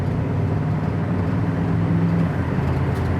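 A 1971 Chevy Nova drives along with a steady, loud interior engine and road rumble, shifting smoothly with no clear break in the drone and no talking.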